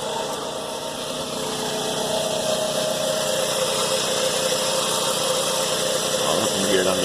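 A 2005 Toyota Camry engine idles after an oil change, a steady, moderately loud mechanical hum with a faint rhythmic tick, holding even for several seconds.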